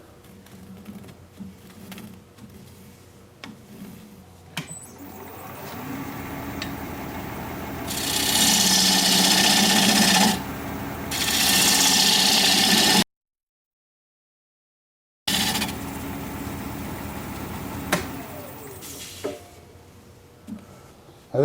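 A wooden pedestal bowl blank spins on a lathe as a tenon is marked out. A low motor hum builds into loud, sustained rasping scrapes of tool on wood, broken by a short dropout before the hum returns.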